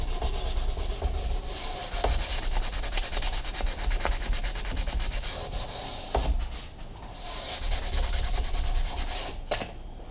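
Sandpaper rubbing back and forth over a wooden axe handle, a loud, close, continuous scratchy hiss in steady strokes with brief pauses, no voices.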